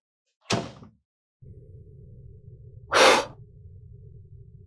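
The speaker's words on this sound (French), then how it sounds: "Et pourquoi est-ce que tu as claqué la porte ainsi?" A door slams shut with a sharp, loud bang, following an earlier short thump, while a low steady hum runs underneath.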